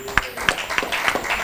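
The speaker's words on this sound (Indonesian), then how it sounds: "Sekali lagi tepuk tangan dong." An audience at an Indonesian FGBMFI community gathering applauds. The claps are sparse and uneven, close to the microphone, and a voice can be heard briefly.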